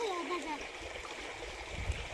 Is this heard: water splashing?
yes